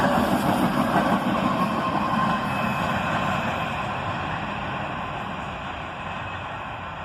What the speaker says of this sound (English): a second locomotive, running distributed power and pushing the train forward